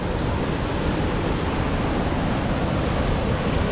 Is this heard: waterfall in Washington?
yes